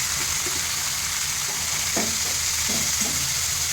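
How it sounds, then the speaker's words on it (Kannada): Dill leaves tossed into garlic frying in a pan for a village-style curry, giving a steady close sizzle with a few soft stirring scrapes and no talking. "ಆಮೇಲೆ ಅದು ಫ್ರೈ ಆಗ್ಬಳಕ ಇದೇನು ಸೋಸಿ ಇಟ್ಕೊಂಡಿರ್ತೀವಿ, ತೊಳೆದು ಇಟ್ಕೊಂಡಿರ್ತೀವಿ ಪಲ್ಯ ಒಳಗೆ ಹಾಕಬೇಕು."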